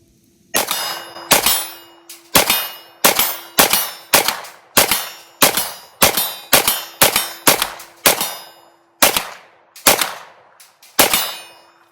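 A Ruger RXM pistol, a Glock-style clone, fires about a dozen and a half shots at a steady pace. Each crack is followed by a ringing clang from the steel targets, loud and close.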